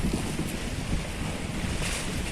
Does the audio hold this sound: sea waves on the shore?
yes